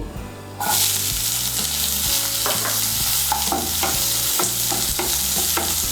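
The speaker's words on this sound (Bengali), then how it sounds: "পেঁয়াজ কুচিটাকে বাদামি করে ভেজে নেব।" Chopped onion frying in hot spiced oil, a loud continuous sizzle close up with regular rhythmic scraping strokes of a spoon stirring through the pan, no voices.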